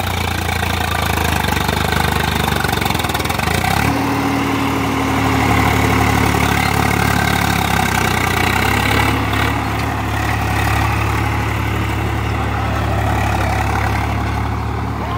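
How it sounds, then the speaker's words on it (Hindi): A Swaraj 744 XT tractor idles with a steady low diesel rumble and a knocking throb, loud and close; the pitch shifts slightly partway through, and no one speaks. "होर छोटू फिर किदा लगता ट्रैक्टर"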